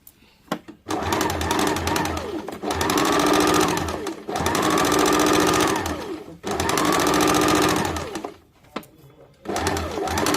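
Sewing machine stitching a kurti, running in three long loud bursts of rapid mechanical whirring separated by brief pauses and a few clicks.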